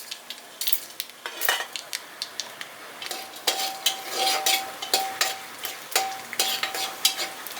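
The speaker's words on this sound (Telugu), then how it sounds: "ఉల్లిపాయలు కొంచెం వేగిన తర్వాత ఈ పచ్చి శనగపప్పు వేసుకోవాలి" Raw chana dal tossed into a pan of frying onions, a steady sizzle broken by repeated scraping and clinking of a spatula against the pan, loud and close with no talking.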